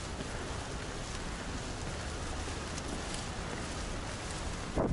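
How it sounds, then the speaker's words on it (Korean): Rain falling steadily at Haeundae beach in Busan, a dense even hiss of drops spread across the whole scene with no voices. "어제는 날씨가 좋았는데 2일차 때는 비가 오네요"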